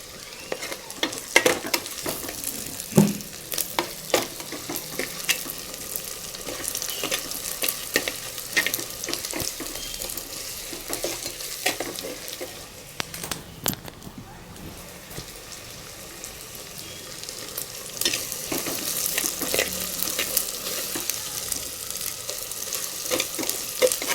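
Ginger garlic paste and curry leaves sizzle in hot oil for a vegetable dalcha, with a crackling, spattering fry and frequent sharp clicks and scrapes of stirring close by.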